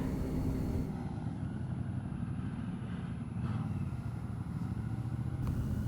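A motorcycle engine drones steadily from the rider's position during a Distinguished Gentleman's Ride, a loud continuous low rumble mixed with wind noise and no clear gear changes.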